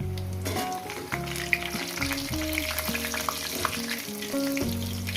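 Salted potatoes crackle and sizzle steadily in hot refined oil beneath a prominent backing tune, close and even throughout.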